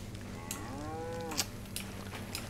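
One short, clear moo from a cow in the winter Livonia setting of DayZ, heard over a low steady hum, followed by a few faint clicks.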